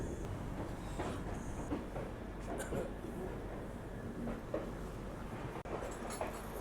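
The New Delhi–Howrah Rajdhani train rolls slowly into Tundla Junction in fog, a steady low rumble with faint wheel clatter and scattered small knocks heard from on board, fairly quiet throughout.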